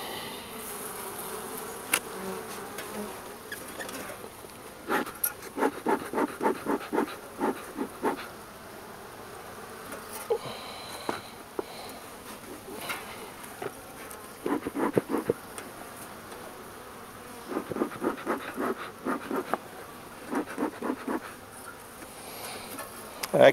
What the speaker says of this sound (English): And here are the bees.